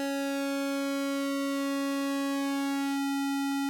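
Sustained buzzy tone from an Arturia PolyBrute 12 analog synth oscillator with the pulse width gradually widening, dense even harmonics steady and close, the timbre shifting near the end, alone without talking.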